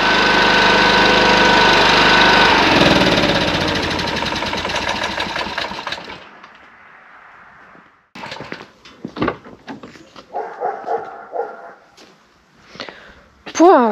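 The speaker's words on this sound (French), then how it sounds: "Vous pouvez le couper le moteur parce que là on s'entend plus." A loud tractor-like farm diesel/petrol hybrid engine drones and rattles for several seconds, then cuts out abruptly; afterward, scattered clunks, knocks and brief voices break a near silence.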